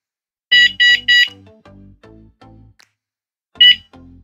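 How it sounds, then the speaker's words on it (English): An alarm built into a motorcycle's brake light sounds three quick shrill beeps, then a series of lower descending tones, and after a pause one more beep and tone, loud and close. "Now the alarm is on."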